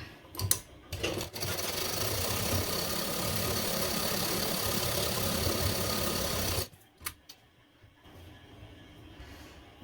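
An electric sewing machine stitches a gota border along the edge of a Bombay-cut blouse, whirring loud and steady for about six seconds before stopping abruptly, with a few clicks and handling noises around it.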